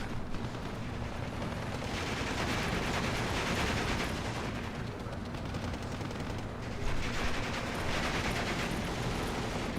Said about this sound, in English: Firing into the tree line.